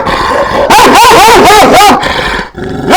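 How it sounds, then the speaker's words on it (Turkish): Several loud Kangal dogs bark close by in a rapid burst, with some growling and yelping mixed in, then a brief pause and another bark. "Dört tane kangal var."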